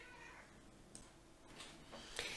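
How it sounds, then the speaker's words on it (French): A pet cat meows a few times, short faint cries spaced apart in a quiet indoor room, with no talking. "je vais faire sortir mon chat qui réclame"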